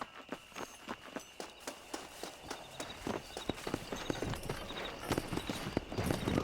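Galloping hoofbeats of a ridden horse in the Western video game Red Dead Redemption, a quick rhythmic clip-clop close by that grows louder and busier toward the end, heard on its own.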